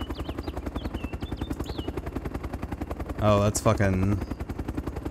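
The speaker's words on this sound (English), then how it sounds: "I think I hear another chopper coming." Helicopter in the video game Arma 2 DayZ Overpoch, a steady pulsing rotor thump throughout, with brief loud bursts of gunfire and a player's exclamation partway through.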